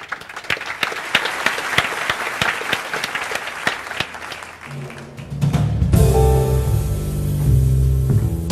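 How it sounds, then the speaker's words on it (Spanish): A room full of people applauds at a literary café in a national auditorium, dense clapping for about five seconds before music swells in and carries on loudly. "les pido un fuerte aplauso para nuestra invitada de hoy"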